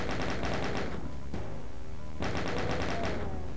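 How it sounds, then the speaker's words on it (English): A chaingun fires in Ultimate Doom, heard as rapid, continuous bursts of dense gunfire with a short pause between two volleys, loud and close, with no talk. "And then you can use the chain gun to hunt down the rest of them and kill them that way"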